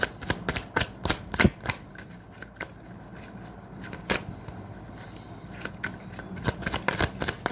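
Tarot cards being shuffled and drawn, a crisp run of papery riffles and slaps in irregular bursts, close and fairly quiet, with no talking over them.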